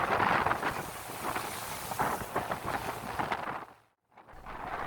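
Strong wind buffeting a microphone aboard the ferry KMP Papuyu in rough seas, loud gusty roaring with rumbling surges, cutting to a brief near-silence before the wind noise returns.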